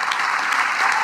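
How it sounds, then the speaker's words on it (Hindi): An audience at a business event claps loudly for a speaker's business coach, a brief, thick burst of many hands clapping close and continuous. "मेरे हिसाब से ये तालियां उनके लिए कम है साहब"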